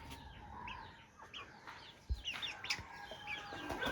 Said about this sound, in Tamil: கோழி வந்து அடைக்கி வச்சிருக்கேன்.